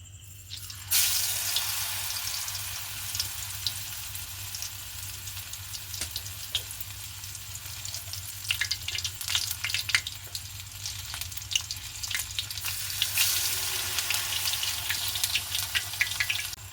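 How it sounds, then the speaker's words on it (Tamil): Constant crackling sizzle of battered plantain slices deep frying in hot oil, close and fairly loud, with scattered pops and spits throughout and no talking. "இந்த டைம் நாங்கள் வாழைக்காயை இதில் துவைச்செடுத்து பொரிக்க போகிறோம்"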